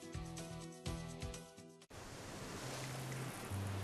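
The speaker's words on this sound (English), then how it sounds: "This is the ocean." Ocean surf along the North Coast, first heard under a few seconds of tonal music, then a steady, fairly loud wash of breaking waves filling the rest of the stretch on its own.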